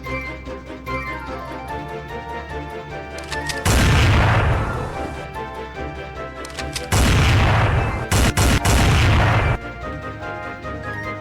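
Two loud, booming explosions with crashing bursts stand out over a steady droning background of train engines, followed by a few sharp blasts near the end.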